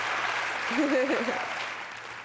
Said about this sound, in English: Definitely worth a clap.